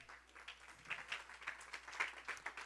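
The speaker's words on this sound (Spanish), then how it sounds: "Den un fuerte aplauso al Señor" Applause from a church congregation during a Spanish-language worship service, a steady patter of many hands clapping at moderate distance, swelling in irregular bursts with no voices over it.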